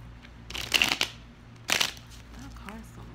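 Two quick bursts of tarot cards riffling and shuffling, crisp and close, separated by a short pause, with quiet background hum.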